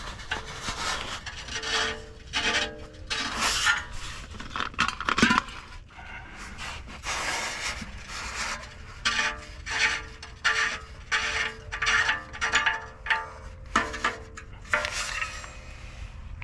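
Ratchet and socket working loose the downstream O2 sensor on the passenger side, bank 2, a repeated close-up rasping and clicking in rhythmic bursts with brief pauses, fairly quiet.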